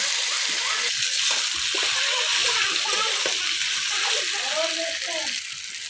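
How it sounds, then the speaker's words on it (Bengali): Noodles frying in a pan with onion, garlic and green chili, a steady close sizzle and watery hiss that run throughout, with a faint voice in the background. "কিছু সময় আমি ভেজে নেব। দিয়ে দিলাম নুডলস"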